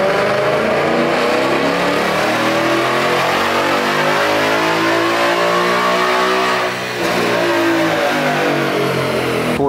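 Ford Mustang S550 with intake, X-pipe and tune revving hard on a dyno, a loud sustained engine roar with rising harmonics, a brief dip near the end, then climbing again; no talking.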